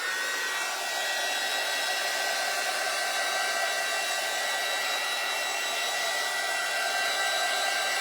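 Steady, close, loud hair dryer blowing continuously over a patriotic craft on a cutting board, a constant airy whine with a faint high motor tone and no talking.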